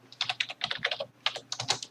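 Rapid typing on a computer keyboard, a dense run of close, crisp key clicks in quick irregular bursts with a brief pause in the middle, no voices.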